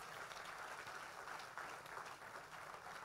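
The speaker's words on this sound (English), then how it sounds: "Clap your hands for Jesus." A church conference congregation in Accra, Ghana claps steadily, a dense wash of many hands at an even level with no pauses, and faint voices mixed in.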